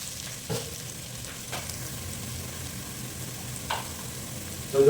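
Fenugreek seeds sautéing in a pan for an ayila fish curry, a steady near sizzle with a few brief stirring scrapes, no voices.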